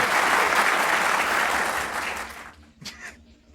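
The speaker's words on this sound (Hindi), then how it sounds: "एक बार बेटा तालियां बजा" A TV studio audience bursts into loud, dense applause on a Pakistani talk show after a cricket match between India and Pakistan, then it cuts off abruptly and a voice briefly speaks near the end.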